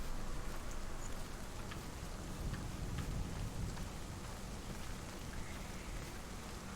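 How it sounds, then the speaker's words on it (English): Rain pouring in the video game Hellblade: Senua's Sacrifice, a steady even hiss of falling drops with a low rumbling undertone, continuous and fairly soft throughout with no talk. "Oh, it's starting to rain again."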